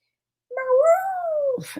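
A cat named Minion meows loudly once, a long, rising and falling cry up close, followed by a brief breathy sound; it may be a person imitating the cat.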